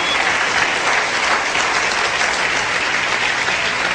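Sustained, dense applause from a church congregation during a pastor's sermon, many hands clapping evenly and loudly throughout, with no voices over it.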